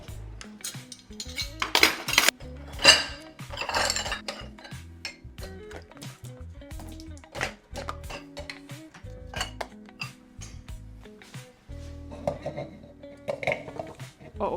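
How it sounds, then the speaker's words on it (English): Dishes being put away in a home kitchen: close, irregular clinks and clatters of plates and cutlery, with louder bursts early on and sparser knocks later. "I'm gonna put some dishes away"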